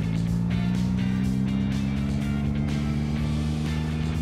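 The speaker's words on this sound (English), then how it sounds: "while we wait for the traffic to pass" Road traffic passing by on a bright day, a loud, steady engine drone with a constant low hum that holds for the whole stretch without fading, no talk over it.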